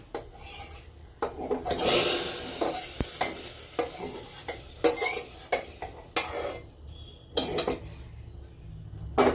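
Hot spice tempering hisses and sizzles as it hits a pot of cooking lentils, followed by a spoon stirring and scraping against metal in irregular bursts, close by.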